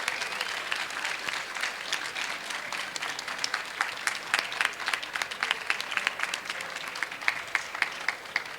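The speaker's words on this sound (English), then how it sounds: "Can we get a round of applause for all of the panelists?" A seated audience gives the conference panelists a sustained round of applause, with dense, even clapping and a few louder individual claps standing out toward the end.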